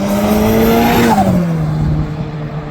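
A turbocharged Toyota GT86/Subaru BRZ with an equal-length exhaust setup revs loudly and close by, its engine note rising then dropping as the revs fall away, with no talking.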